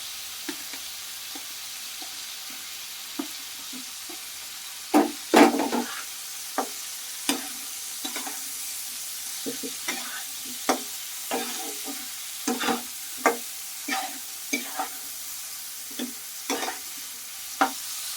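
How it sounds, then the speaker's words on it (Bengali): A spice masala with a little water is sautéed in a pan, the spoon scraping in regular close strokes over a constant frying sizzle, with no one talking. "এবার মশলাটাকে পারফেক্ট কষিয়ে নিতে হবে।"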